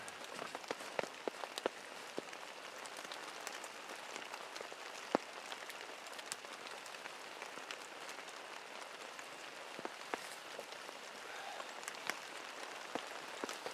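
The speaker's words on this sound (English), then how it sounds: "And it's starting to rain again." Rain falls steadily in a river wilderness, a dense even patter of drops with scattered sharper ticks throughout, close and moderately soft, with no voices.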